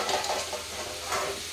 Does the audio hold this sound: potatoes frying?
yes